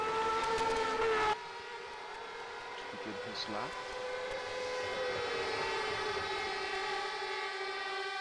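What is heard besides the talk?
horns blown by the crowd at a racing event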